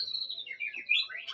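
Sooty-headed bulbul (trucuk), a male without a raised crest, calling in a run of bright chirping whistles that sweep up and down, close and fairly clear over a quiet background.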